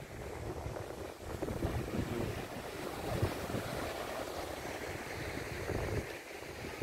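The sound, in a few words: wind at the seaside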